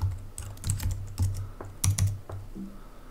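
Rapid keystrokes on a computer keyboard as a Conda environment-creation command is typed, a close, steady run of clicky taps with brief pauses and no talking.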